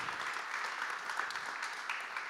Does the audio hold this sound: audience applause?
yes